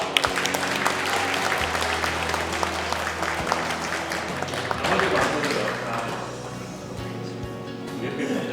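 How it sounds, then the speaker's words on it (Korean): A church congregation claps during a Sunday worship service, sustained applause filling the hall for several seconds and slowly thinning toward the end, with a voice speaking over it. "박수 주실까요?"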